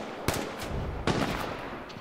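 Gunfire in the battle royale video game H1Z1: two sharp shots roughly a second apart cut through a steady, noisy in-game background at moderate loudness.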